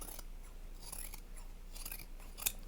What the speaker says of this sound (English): I'm going to trim across the bottom